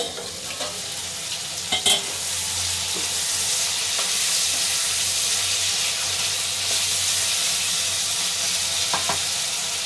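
Potato and eggplant curry sizzles steadily in a pan while being stirred, with a few scraping clinks of the spoon against the pan over continuous frying hiss.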